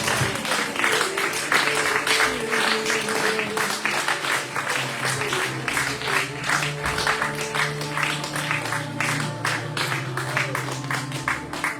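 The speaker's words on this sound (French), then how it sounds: "Vous pouvez applaudir le Seigneur Jésus" A church congregation at a worship service applauds while music plays. Rhythmic clapping, loosely in time, sits over sustained keyboard or organ tones and a low bass line, and it continues steadily throughout.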